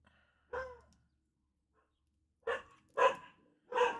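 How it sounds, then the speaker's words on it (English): Dogs bark near a home workshop: one sharp bark, a pause of nearly two seconds, then three quick barks in a row, fairly close and clear against quiet. "Dogs are going crazy."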